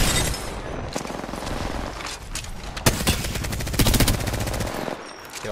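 Rapid automatic gunfire in the battle-royale video game Apex Legends, loud sustained bursts of machine-gun shots with brief pauses, close and dominant.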